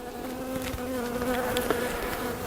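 Honey bees buzz steadily around an opened hive during an inspection, a dense, continuous hum with a few louder passes as individual bees fly close.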